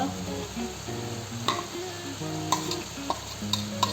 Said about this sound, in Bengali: শিম টমেটো আর মশলার মধ্যে দিয়ে অল্প কিছু সময় নাড়াচাড়া করে রেখে দেব।